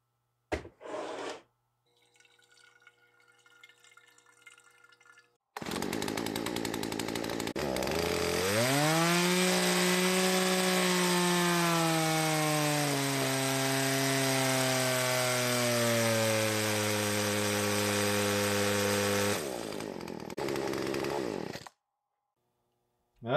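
A late-model 40cc strato chainsaw engine starts after brief sputters, revs up and holds a loud, steady high-pitched scream for about fourteen seconds, then cuts back and drops off.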